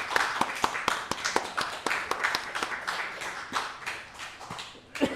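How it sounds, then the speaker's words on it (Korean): A church congregation at a Sunday worship service claps to welcome a visiting guest, a brisk run of many hands at close to moderate distance that lasts the whole stretch. "우리 박수로 환영합시다"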